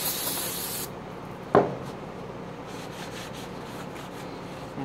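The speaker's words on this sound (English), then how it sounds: "Spray it off a little bit so I can paint it. Some of that oil and stuff off." A loud hiss of spray cleaning oil off a galvanized metal trailer part dominates the opening second, then cuts off; a brief sharp clatter follows amid quiet rustling and faint scraping.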